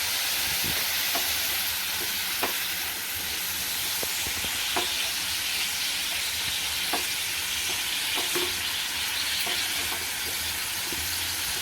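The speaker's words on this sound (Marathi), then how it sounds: "कांदा थोडं शिजून घ्यायचा आहे आता आपला कांदा शिजतोय" Chopped onion frying in hot oil in a pan on a gas stove for a prawn masala, giving a steady close sizzle with scattered crackles and pops throughout, no voices.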